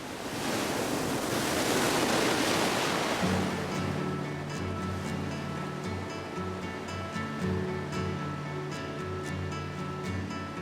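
Winter surf pounds the rugged Oregon coast at Cape Perpetua, a loud continuous roar of breaking waves mixed with gusting wind, with a low steady tonal hum underneath.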